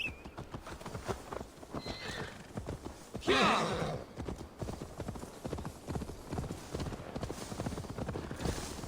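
Horse in Assassin's Creed Valhalla, a steady run of clip-clopping hooves with a loud neigh about a third of the way in, hoof beats continuing to the end.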